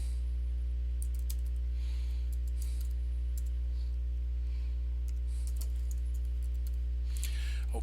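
Sporadic keystrokes on a computer keyboard click lightly over a loud constant electrical hum, coming in short irregular clusters.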